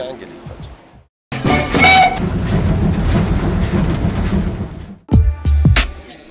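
A train running on rails, with a loud, steady rolling rumble and rattle from close by that cuts off sharply, followed by a few heavy thumps.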